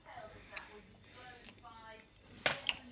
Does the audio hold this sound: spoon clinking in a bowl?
yes